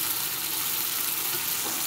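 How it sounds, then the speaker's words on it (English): Tomato paste and tomatoes sizzle steadily in a hot pan, a close, even crackling hiss with no pauses and no voices. "So now you're just cooking basically all this tomato paste and tomatoes, letting them get cooked."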